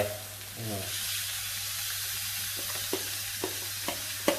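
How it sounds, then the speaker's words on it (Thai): Sour bamboo shoots are tipped into an electric pan and stir-fried, a soft steady sizzle with a few light scraping taps of the spatula and no talking. "เดี๋ยวเราใส่นี่ครับ หน่อไม้เปรี้ยวนะครับใส่หน่อไม้เปรี้ยวลงไป"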